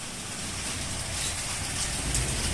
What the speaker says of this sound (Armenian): անձրև է գալիս